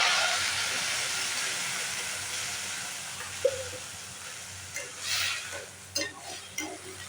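A hot pan of chilli tomato curry hisses and sizzles steadily after a little water is poured in, close and moderately loud, with a few stirring scrapes and bubbling pops toward the end.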